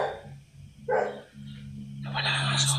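A dog gives a few short, muffled barks at a distance, faint against a low steady hum and background noise.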